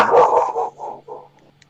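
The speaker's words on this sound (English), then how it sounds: "I hear a dog in the distance." A dog gives several quick barks in a row that fade and shorten, with a faint steady hum underneath and no talking.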